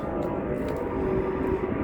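An airplane passing overhead, a steady, moderately loud engine drone with a low hum that holds throughout, heard alone without talk.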